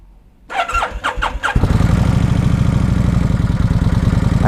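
A 2003 Kawasaki Vulcan VN1600 Classic motorcycle engine cranks through a few uneven starter turns, then catches and settles into a loud, steady, rhythmic idle heard up close.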